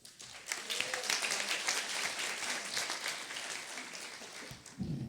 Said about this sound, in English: Let's start with one more round of applause for the class of 2016